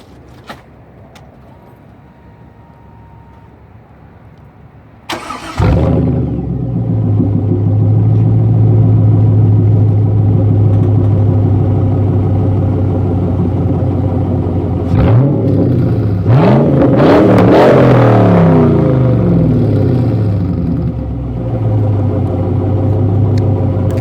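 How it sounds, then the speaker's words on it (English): A 1999 Chevrolet Camaro Z28 convertible with the LS1 V8 and an SLP Loudmouth 1 exhaust cranks and fires after a quiet stretch, settling into a loud, deep rumbling idle, then rises through a couple of sharp revs before dropping back to idle. "I just put Loudmouth 1 SLP exhaust on my 99 Z28."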